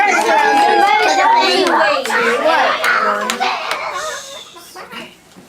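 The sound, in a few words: children imitating chickens and roosters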